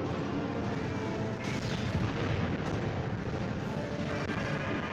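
Dense, continuous booming gunfire from a bowgun in Monster Hunter 3 Ultimate, loud and rumbling, with blasts blending into one another through the whole clip.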